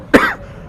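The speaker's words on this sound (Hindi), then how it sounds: "आज भी खांसी आ रही है।" A single sharp cough from an adult man in an indoor classroom-style setting, one short loud burst trailing off quickly, heard alone with no talk.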